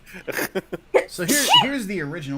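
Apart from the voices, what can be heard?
sneeze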